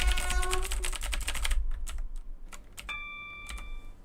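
Rapid typing on a Razer BlackWidow Chroma V2 clicky mechanical keyboard, a dense run of close, crisp keystrokes that thins into slower scattered clicks, with a faint tonal hum underneath.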